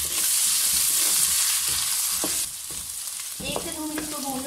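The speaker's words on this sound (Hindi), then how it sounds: "1 से 2 मिनट इसको भून लूँगी" Garlic ginger paste frying in a pan of oil for mutton balti gosht, a loud dense sizzle that drops in level partway through, with a few spoon scrapes and clinks near the end.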